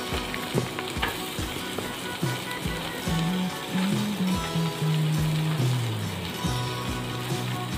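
Carrots sizzle in butter in a pan for a sweet corn soup, with a steady crackling fry punctuated by scraping stirs and clicks of a utensil, close and moderately loud.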